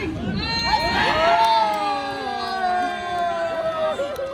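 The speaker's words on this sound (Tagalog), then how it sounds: "And the crowd goes wild!" An arena crowd at Araneta cheers and shouts loudly and without a break through an elimination-round match, with high excited voices sliding and rising over the steady roar.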